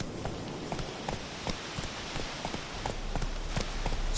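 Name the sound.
horse Roach galloping in The Witcher video game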